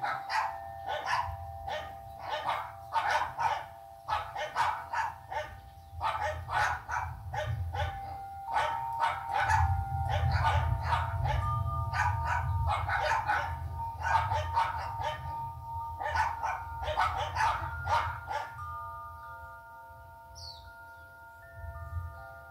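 Several dogs barking in a rapid, steady stream of overlapping barks over a low rumble, with a tinkling melody running through and continuing after the barking fades out.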